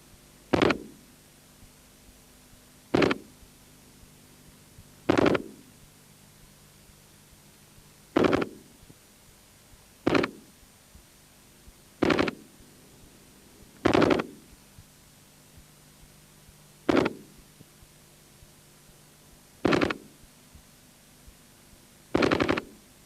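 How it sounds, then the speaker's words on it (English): Short bursts from a Warsaw Pact assault rifle firing on automatic at an outdoor range, about ten sharp bursts spaced a few seconds apart, fairly distant, with quiet between them. "To fire on the automatic mode, which is its primary mode, you simply push up to the next slot."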